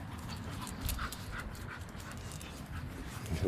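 An American Bully dog pants on a spring walk in Saint Louis, quick rhythmic breaths close to the microphone with faint shuffling footsteps and outdoor background noise.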